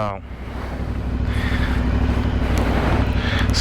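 A 2021 Aprilia Dorsoduro supermoto's engine runs close and loud, a steady throaty rumble that holds even throughout without pauses.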